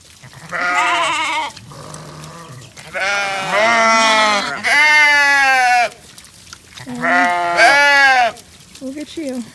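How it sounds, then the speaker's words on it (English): Ewes and lambs bleat repeatedly at close range, a chorus of long wavering calls, some deep and some higher, overlapping and following one another with short gaps. "Come on, sheep."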